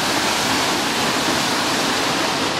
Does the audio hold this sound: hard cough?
no